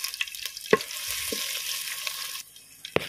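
Finely chopped ginger and a few garlic cloves hiss and crackle in hot coconut oil, a steady close sizzle that drops off near the end, with a few sharp clicks of a utensil against the pan.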